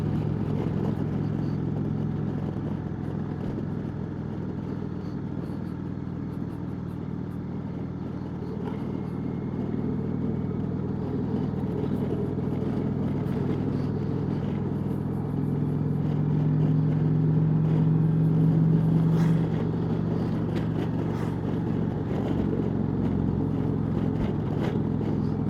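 Indian Chieftain motorcycle engine droning steadily on an open road out of the city, with a low steady hum that swells slightly louder toward the end as it builds for an overtake, with wind noise over it.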